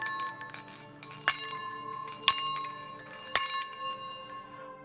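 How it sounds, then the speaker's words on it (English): A bell rings in a quick test on a motorcycle club livestream, with three sharp, bright strikes spaced about a second apart, each leaving a long shimmering ring and lighter clinks between them. "We're gonna hit it with the quick bell test."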